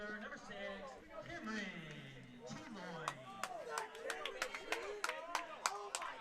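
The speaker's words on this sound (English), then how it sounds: "And a very lively crowd here at Kinsman Stadium." Lively crowd at Kinsman Stadium during a 15U boys championship baseball game, chatter rolling steadily with sharp scattered claps growing more frequent near the end, under continuous talk.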